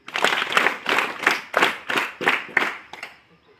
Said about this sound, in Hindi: तालियां के लिए।